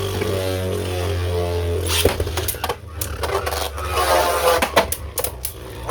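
Beyblade Burst spinning tops, including Valkyrie and Wyvern, battle in a stadium, making a continuous whirring scrape broken by a series of sharp clacking hits, close and fairly loud.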